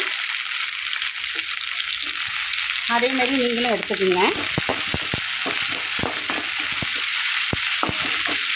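Loud, continuous sizzling of finely chopped big onions frying in hot oil for pepper chicken, with occasional stirring clatters and a brief spoken remark partway through.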